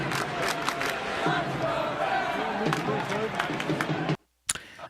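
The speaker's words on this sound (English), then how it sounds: "You can see them cheering those guys on." New York Islanders fans in a hockey arena roar and cheer, a loud, dense crowd wall with shouted voices that cuts off abruptly near the end before brief noise resumes.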